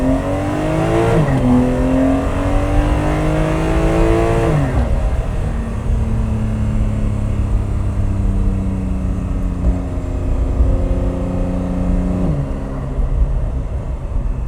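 A 2026 Porsche 911 driven in manual mode, its engine climbing through rising revs, dropping at each gear change, then pulling again, loud and close inside the car without talk.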